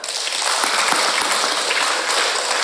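A crowd at an Islamic Isra' Mi'raj sermon claps steadily in sustained applause, dense and even throughout with no voices standing out.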